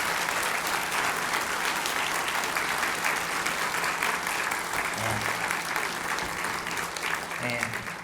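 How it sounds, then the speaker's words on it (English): Sustained applause from a garden party audience fills the space, a steady dense clatter of many hands clapping outdoors, with a few faint voices surfacing near the end. "So give them a special round of applause"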